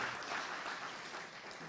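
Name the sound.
applause for pitch competition competitors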